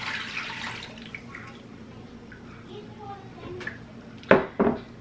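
Warm water and oil are poured into a mixing bowl for sourdough bread dough, a soft splashing pour ending in a couple of louder sloshing bursts close by.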